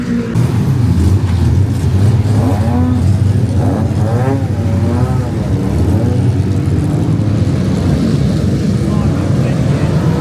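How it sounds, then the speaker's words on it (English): Engines drone steadily throughout, a loud rumbling mass of race cars heading out on track at Mallory Park, with a rising whine as one passes. "As the cars go out on track"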